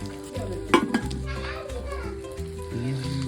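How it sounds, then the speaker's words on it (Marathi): Chicken pieces roast in hot oil in a pan, a soft steady sizzle running beneath nearby talking and children's voices. "भाजायला चालूच आहे, ह्याच्यात पण राहिलं थोडेसे"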